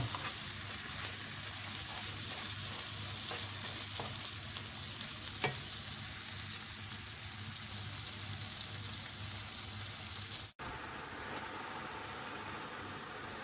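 Wide rice noodles are stir-fried in a hot pan, giving a continuous close sizzle with scraping stirs, a low engine-like hum underneath and a brief dropout near the end.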